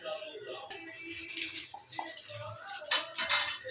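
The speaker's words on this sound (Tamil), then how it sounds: "நல்லா கிண்டி விட்டுக்கோங்க." Spoon scraping and clinking in a cooking pan as tomato, onion and mutton are stirred, short metallic rattles and scrapes in a quick irregular rhythm, close and moderately loud.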